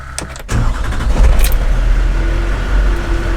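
A Chevy work truck with a dump bed cranks briefly and its engine fires, then settles into a loud, steady idle close by.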